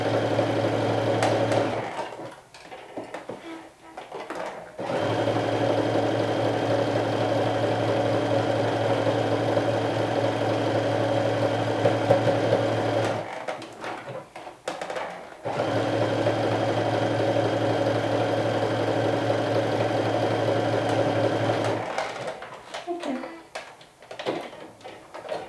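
A sewing machine runs in long steady bursts while stitching the shoulder and side seams of a Tofino sewing project. It makes a close, even mechanical hum with short pauses between runs.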